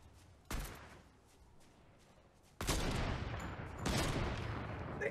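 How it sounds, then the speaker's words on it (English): Sniper gunfire in Fortnite, with one sharp distant crack followed by two louder, rumbling shots that leave a lingering echo, and no talk. "Snipers all over the place."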